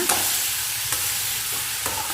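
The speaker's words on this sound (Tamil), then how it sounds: "மாங்காய் தோல் சேர்த்துட்டு நல்லா வதக்கி விட்டுருங்க." Mango peel sizzles and fries in a hot pan, with occasional scraping stirs clicking against the metal, steady and close.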